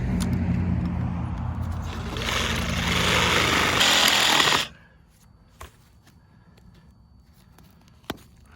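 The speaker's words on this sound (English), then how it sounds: "Finish it off with my 18 volt sawzall." An 18 volt cordless reciprocating saw cuts through pipe during a pop-up drain install, a loud, dense buzzing roar lasting about four and a half seconds before stopping abruptly, followed by quiet with a couple of small knocks.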